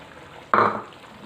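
Cut carrots, one and a half cups, tip into a pan of cooking chicken fajita vegetables with a single soft, close rustling thud that fades within a fraction of a second against a quiet background.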